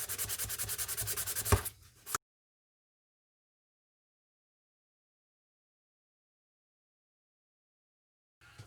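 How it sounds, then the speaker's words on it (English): Coarse sandpaper rubbed on a plastic scale model part, a rapid rhythmic scratching for about two seconds up close, then silence with a brief sound at the very end. "now let's do some sanding. This is the coarse"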